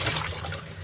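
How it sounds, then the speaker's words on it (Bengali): Shing catfish being rinsed in water, a steady close splashing and trickling wash with no talking. "এবার এটাকে আমি এখন ভালো করে ধুয়ে নেব।"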